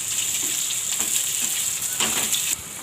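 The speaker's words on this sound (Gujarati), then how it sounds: "આપણે આને ધીમા ગેસે શેકાવા દેવાનું છે સરસ શેકી લેવું આપણે આને" Peanuts roasting in a pan over a low flame give a steady, soft sizzle and crackle throughout, with a few faint stirring scrapes and a slight drop in level near the end.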